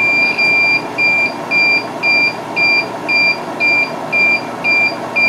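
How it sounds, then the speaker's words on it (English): Short high electronic beeps from an optical edge finder repeat steadily about twice a second over a constant machine hum, each beep clear and evenly spaced. "every time it comes around and touches the indicator, it beeps at me"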